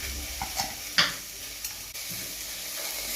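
Cabbage and green peas are stirred in a cooking pot with other vegetables, a gentle sizzle under a few soft scraping strokes of the spoon, close and moderately quiet.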